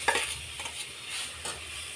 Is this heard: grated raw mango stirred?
yes